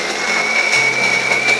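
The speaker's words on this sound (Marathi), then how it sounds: "आता हे दोन्ही आपल्याला एका मिक्सर जारमध्ये वाटून घेऊन छान अशी याची पेस्ट करून घ्यायची." A mixer grinder whirs steadily as it blends red chillies and garlic into a paste, a loud, continuous motor drone with a high whine that holds unbroken from start to end.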